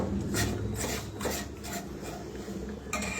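A spoon rasps and scrapes through one cup of atta flour in one cup of ghee in a pan over a slow flame, with quiet, repeated stirring strokes roughly twice a second and no talking.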